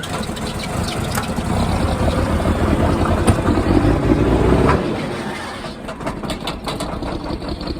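John Deere 4440 tractor engine running: a loud, continuous rumbling idle close by that eases to a lighter, steadier note partway through.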